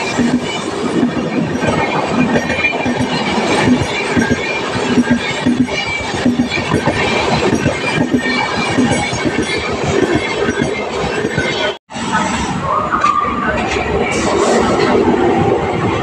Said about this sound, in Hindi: लखनऊ शताब्दी एक्सप्रेस न्यू दिल्ली से लखनऊ को जाने वाली